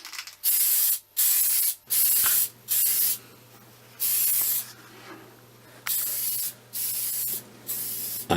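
Semi-matte black spray paint hisses onto a plywood display turntable in nine or ten short, sharp bursts, each about half a second, separated by brief pauses, close up with no talking.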